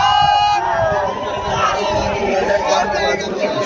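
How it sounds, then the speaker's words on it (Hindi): Dense crowd babble of many voices fills a busy train station platform, a loud continuous hubbub with overlapping chatter and occasional shouts, steady throughout. "भीड़ देखो गाइस कितना भीड़ है, मात्र एक ही ट्रेन बचा है।"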